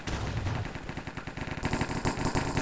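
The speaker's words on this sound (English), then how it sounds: "So much gunfire!" Rapid gunfire crackles in the Hypixel Cops and Crims video game, a fast, continuous stream of shots with a bright, sharp burst layered on in the second half, with no talk over it.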